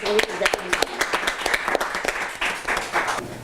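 Attendees at an association's general meeting applauding volunteers, with rapid clapping throughout and voices talking over it.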